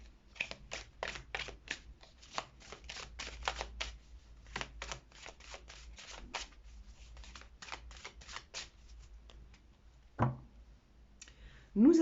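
Oracle cards are riffled and shuffled in quick, crisp bursts of clicking slaps, close and fairly quiet over a low hum, pausing briefly before a final soft knock.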